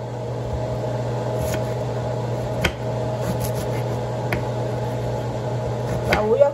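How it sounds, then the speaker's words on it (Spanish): A kitchen air extractor fan runs steadily with a constant hum and whirr, joined by a few faint clicks and clinks from work nearby. "El extractor de aire"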